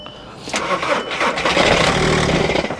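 A diesel Nissan Armada at a Copart salvage lot cranks from a booster pack. A quieter start swells after about half a second into a loud, close, labored grinding churn that carries on without the engine firing.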